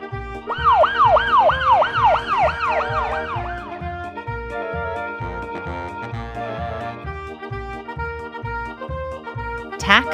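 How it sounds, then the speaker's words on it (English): An ambulance siren sounds loud and near in rapid repeated wails at the start, then fades into a steady rhythmic musical beat that continues to the end. "Ambulance."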